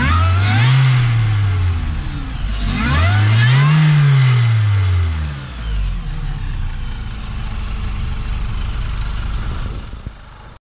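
A Mini Cooper S R53 with a cold air intake revs hard twice in quick succession, each rise and fall loud and close, then settles into a steady idle for the rest of the clip.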